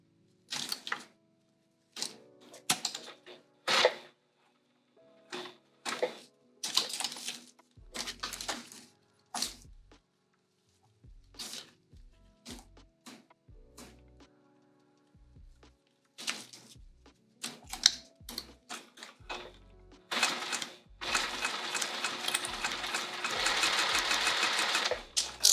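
A sewing machine stitches a vinyl bag in stop-start bursts, short runs of rapid mechanical clatter separated by pauses, ending in a longer steady run of stitching close up.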